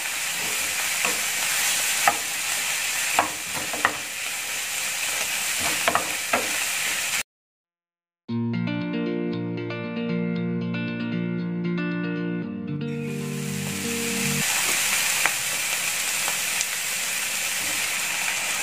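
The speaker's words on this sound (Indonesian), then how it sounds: "Bawang putihnya kita aduk sampai bau bawang putihnya juga harum ya." Garlic stirred while frying for a homemade creamy beef mushroom dish, a loud continuous sizzle with spatula scrapes, broken by a short gap and a burst of unrelated music before the sizzling resumes.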